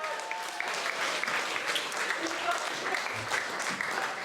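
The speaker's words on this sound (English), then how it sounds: "Ladies and gentlemen, I think a round of applause for Steve is just." Wedding guests applaud a speech at the reception, dense steady clapping throughout, mixed with murmured voices and a few cheers.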